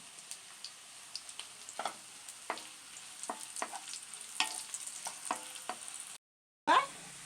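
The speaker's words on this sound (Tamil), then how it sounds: "இதை கொஞ்சம் கொஞ்சமாக சேர்த்து ஷாலோ ஃப்ரை பண்ணிடலாம்." Cut pieces of chapathi shallow frying in a pan, a soft steady sizzle broken by scattered pops and scraping stirs, fairly quiet and close, with a short break near the end; no speech.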